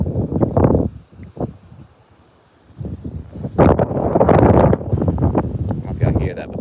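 Strong wind gusts sweeping across open water at a North Carolina bass fishing spot, a broad rushing roar that swells loudly in the second half, with someone talking over it near the start.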